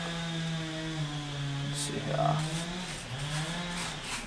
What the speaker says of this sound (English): You can hear my neighbor running his chainsaw right now, cutting up some trees that fell over last night in the hurricane.